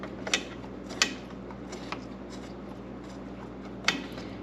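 A ratchet tightens the bolts of a Munster rail brace on a backing plate, producing a few faint, separated metallic clicks spread over a few quiet seconds.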